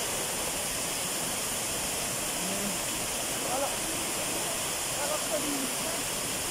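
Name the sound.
waterfall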